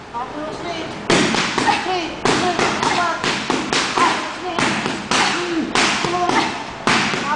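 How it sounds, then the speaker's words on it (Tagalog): Boxer Mimi's hard punches landing on pads, loud close smacking thuds in an irregular run of single and double hits, with voices talking underneath. "narinig natin ang lakas ni Mimi pag sumusuntok"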